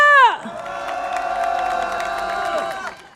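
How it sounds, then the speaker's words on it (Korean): A street rally crowd outside a Seoul subway station cheers and applauds: a loud voice tails off, then sustained clapping and shouts carry on for a few seconds, with whoops above the clapping. "다시 한번 뜨거운 박수 부탁드립니다."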